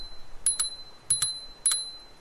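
A bicycle bell on the handlebar of an Engwe L20 fat bike rings three times at even intervals, each a short double ding, close and clear with nothing else sounding.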